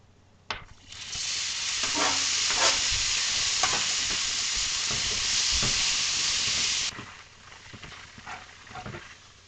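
Bok choy and onions hit a hot pan and burst into a loud, steady sizzle with occasional stirring scrapes, then the frying drops to a softer crackle after several seconds.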